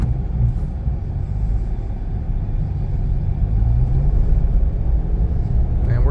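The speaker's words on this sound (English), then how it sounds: "drop the clutch, floor it." A 2022 Mitsubishi Mirage on Hankook Ventus V2 tires pulls away hard on snow in first gear with the clutch dropped and throttle floored, a steady, close engine drone and road rumble building slowly throughout.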